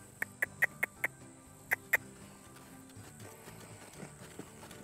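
Horse being started under saddle, walking with a run of sharp, close hoof clip-clops at an even pace, then a quieter stretch with faint movement sounds.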